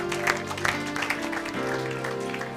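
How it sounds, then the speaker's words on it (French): A church congregation claps steadily, a full round of applause mixed with sustained music tones underneath. "Acclamez pour la gloire de notre Dieu."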